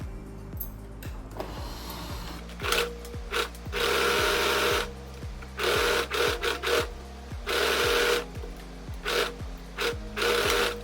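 A sewing machine stitches a seam on a tie-front vest in steady rhythmic bursts, the needle clatter starting and stopping several times with short pauses between runs, close and fairly loud, with no talking.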